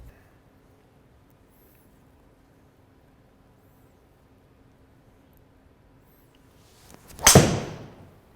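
A fairway wood strikes a golf ball during a club fitting: a single sharp, loud impact crack after several seconds of quiet room tone, followed by a brief fading whoosh.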